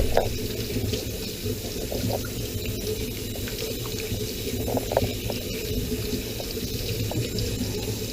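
Hot water runs steadily from a newly installed kitchen faucet into the sink, a continuous close splashing rush with small gurgles and clinks throughout.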